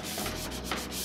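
A damp cloth is scrubbed vigorously over furniture painted with Annie Sloan chalk paint to distress it, a close, loud, continuous rasping rub with rhythmic back-and-forth strokes and no talking.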